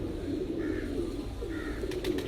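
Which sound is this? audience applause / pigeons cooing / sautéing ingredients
pigeons cooing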